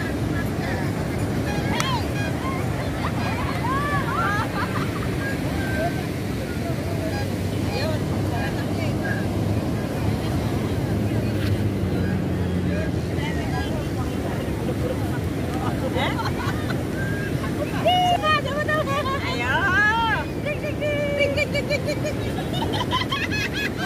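Constant roar of surf and wind at Parangtritis Beach, loud and steady throughout, with a hubbub of distant voices and occasional louder calls mixed in.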